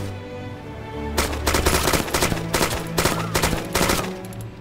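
Rapid bursts of gunfire in Arma 2: DayZ Mod, several loud clustered volleys of shots crackling one after another with short gaps, close and dominant with no talk over them.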